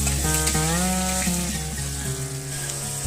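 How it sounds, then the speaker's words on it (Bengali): Potatoes frying in a wok, a steady loud sizzle throughout, with tonal hum and faint clinks layered on top and no talking. "এখানে আমি আলুগুলোকে খুব লাল লাল করে ভেজে নেব।"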